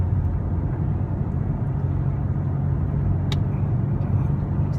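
A manual-transmission car engine driven by a learner working the clutch, giving a loud, steady low rumble that holds throughout with no break.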